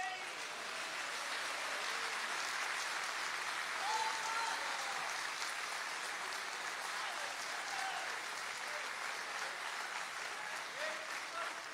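A church congregation claps steadily for Jesus, a continuous wash of applause heard at some distance and fairly faint, with a few voices calling out within it.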